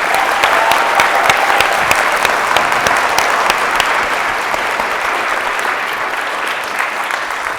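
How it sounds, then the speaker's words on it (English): A college audience gives sustained, loud applause after a performance by violinist Hilary Hahn, a dense even roar of clapping hands that holds steady and eases slightly toward the end, with no talking. "So maybe one more round of applause."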